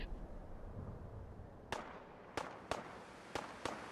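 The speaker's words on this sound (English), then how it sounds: "That car was like a mini nuclear explosion." Sharp explosive bangs from a car blowing up after a grenade in the Fallout 4 video game, five loud cracks in quick succession after a quieter rumbling stretch, with no talk.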